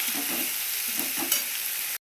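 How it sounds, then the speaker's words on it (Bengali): Prawns fry with onion in a pan, a steady sizzling hiss with soft stirring scrapes, close and continuous, with no voices. "চিংড়ি মাছটাকে একটু ভালো করে ভাজা ভাজা করবো পেঁয়াজের সাথে"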